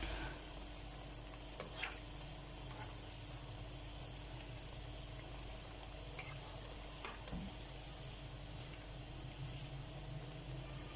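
Potato pakoras frying in a pan give a steady, fairly faint sizzle with occasional small ticks and pops, continuous and unbroken by speech.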